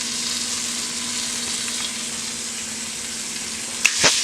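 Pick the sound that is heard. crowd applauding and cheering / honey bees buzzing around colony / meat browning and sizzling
meat browning and sizzling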